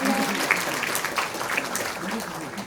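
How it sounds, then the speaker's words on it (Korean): Audience applause at a ceremony honoring local council members, a dense, steady wash of clapping with faint voices mixed in. "큰 박수 부탁드리겠습니다"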